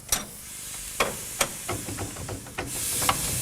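Steady hissing steam from a steam engine running for the first time in over 10 years, with sharp bursts and clanking knocks at irregular intervals, rising into a louder hiss near the end.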